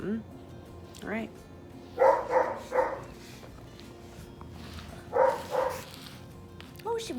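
A Great Pyrenees puppy, 11 weeks old, gives a few short high yips and barks in two clusters, close by, with quiet stretches between.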